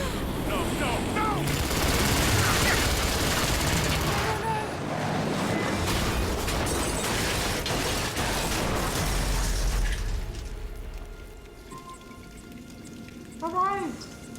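Enemies fire at the player in the video game Tomb Raider, a dense, loud barrage of rapid gunshots and crackling that runs for about ten seconds before fading, followed by a brief voice near the end.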